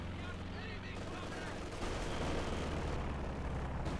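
A Maxim machine gun fires in Company of Heroes 2, dense rapid bursts mixed with other battle gunfire and distant explosions, loud and continuous under a commentator's voice.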